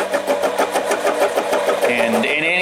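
A Harbor Freight 7x10 mini lathe taking a heavy cut on a 304 stainless steel bolt, giving a loud, rough, chattering rhythmic grind with a shifting whine near the end.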